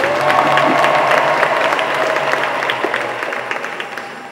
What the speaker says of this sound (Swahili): Naomba tuwapigie tena makofi na vigelegele.